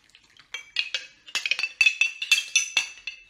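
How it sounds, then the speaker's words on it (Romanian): Flour and milk being stirred into cozonac dough in a bowl, giving a series of light, close clinks and scrapes that come in an irregular rhythm, with no talking over them. "Și încet, încet începem să amestecăm."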